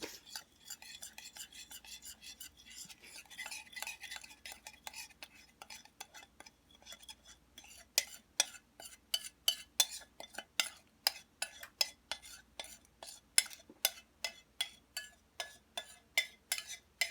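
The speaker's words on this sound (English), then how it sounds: "I'm going to mix this to combine these together" Turmeric, salt and spices mixed together in a bowl with a utensil, giving steady soft scraping at first, then a run of sharp, regular clinks of cutlery against the bowl, close and alone.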